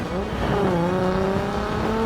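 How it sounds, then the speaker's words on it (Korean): A car with a VQ engine revs in a steady, sustained drone, its engine note rising slightly and holding, moderately loud and alone without talk. "지금 이 VQ 엔진의 사운드"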